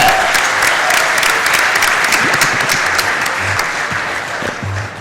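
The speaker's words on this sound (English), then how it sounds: "Wow, clap it up for that." A crowd breaks into loud, dense applause for a $1,000 donation at a speedrun event, the clapping steady throughout and fading slightly near the end.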